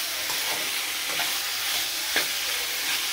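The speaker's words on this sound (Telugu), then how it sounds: "ఇలా నూనెలో కొద్దిగా వేగితే బాగుంటుంది అన్నమాట." Masala fries in hot oil for a drumstick chicken curry, a continuous close sizzle with occasional light stirring scrapes and no one speaking.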